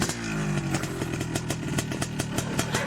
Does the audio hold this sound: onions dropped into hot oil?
no